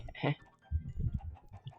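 Chickens in Minecraft Bedrock Edition cluck in short, close bursts through a couple of seconds while feeding, with an indistinct voice mixed in.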